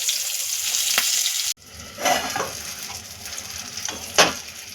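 Stuffed green chillies sizzle steadily in a pan, with a sudden drop in level as they are flipped, then scraping and clattering of the utensil over softer continued frying.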